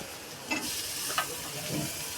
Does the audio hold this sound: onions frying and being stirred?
yes